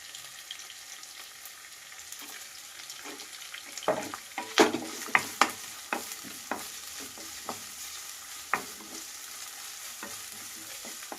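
Onion, garlic paste and carrots frying in a pan for fried rice, with a steady close sizzle broken by a run of sharp scraping stirs and clacks of a utensil against the pan.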